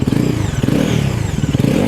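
A 2025 Bajaj Pulsar NS400Z motorcycle engine runs loud and close with a steady, throbbing low rumble and a gritty mechanical clatter. No one speaks over it.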